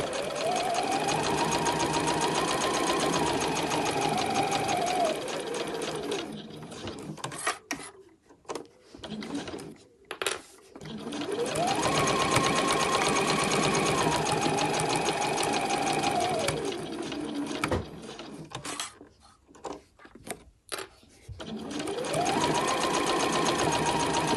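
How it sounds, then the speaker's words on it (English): A sewing machine runs in long steady stitching bursts while sewing a seam on fabric for make-up wipes, pausing twice with brief clicks as the needle is left down and the fabric is swivelled at the corners. "As I'm travelling towards the corner, I want to leave my needle down, swivel round, that's about right, and then continue."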